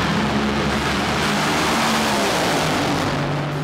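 A 10,000-horsepower race car engine roars loud and sustained, a thick broadband drone with steady low tones that shift slightly in pitch.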